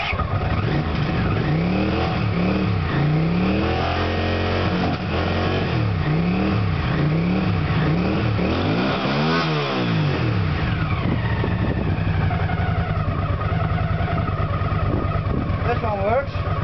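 Small engine revved repeatedly as the throttle is opened during a test of an SDI ignition unit, with rising and falling rev sweeps and one sharp high rev, loud and close, while someone talks over it.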